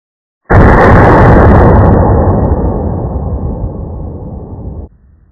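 A single loud AR-15 rifle shot fired through a four-prong muzzle brake, a sharp blast close by that rolls into a long booming decay over several seconds outdoors.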